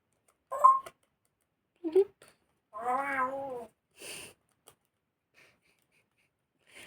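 A person imitates a cat meowing, producing a few short, separate mewing calls with one longer wavering meow, spaced by quiet pauses and fairly close.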